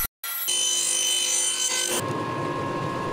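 A table saw cuts a second pass through wood to widen grooves for a small pantry organizer; after a brief silence the loud, steady rasping cut runs continuously, with a rougher, deeper tone near the end.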